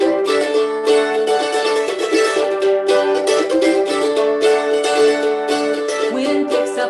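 Mandolin strumming chords of a song, bright and ringing, played up close and steady throughout with no voice.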